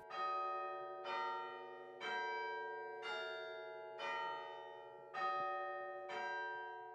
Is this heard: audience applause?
no